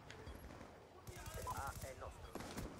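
Rapid bursts of gunfire from the video game Black Ops 2, crackling fairly close in fast volleys through most of the moment, with a voice talking over the shooting.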